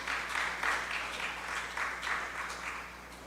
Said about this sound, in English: So give them a lusty round of applause.